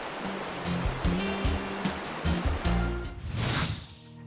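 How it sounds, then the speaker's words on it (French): Waterfalls in Grenada give off a constant broadband rush of falling water, loud and steady, partly under background music. "À Grenade, il y a aussi de très belles cascades rafraîchissantes."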